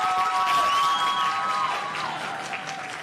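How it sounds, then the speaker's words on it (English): Audience applause at a learner-leadership summit, a dense continuous wash of clapping with some cheering, fairly loud and steady before easing slightly toward the end. "Let's give Gauteng a round of applause."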